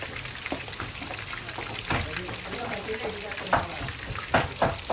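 Chicken frying in hot oil gives a steady dense sizzle and crackle throughout, with a few louder pops and stirring clatters over the continuous hiss.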